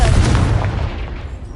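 Confringo blasting spell from Hogwarts Legacy hits with a heavy, booming explosion, a loud close burst with a deep rumbling low end that fades over a second and a half.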